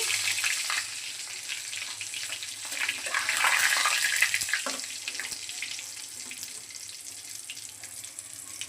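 Nigella seeds and whole spices sizzle and crackle steadily in fish-frying oil, swelling louder for a few seconds midway before settling back to a gentle fry.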